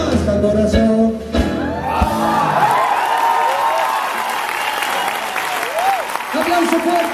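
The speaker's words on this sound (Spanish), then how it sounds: "Aplauso fuerte" Audience applause at a live concert, a dense burst of clapping that swells then fades as a person begins speaking over it, with a few shouts mixed in.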